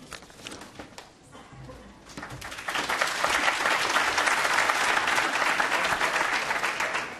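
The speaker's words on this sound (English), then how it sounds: "I'm always worried when there's applause before I said anything" Conference audience applause at a plenary session, starting moderately and swelling at about three seconds into loud, dense, sustained clapping from a large crowd that continues to the end.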